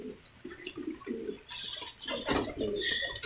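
Male pigeons coo in a run of soft, low, repeated throaty pulses at close range, joined later by brighter chirps and faint background noise.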